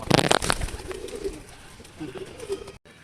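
Madras pigeons, a hobbyist's flying birds, coo in low, repeated throaty phrases nearby, with a burst of louder bird sounds at the start and a brief cutout near the end.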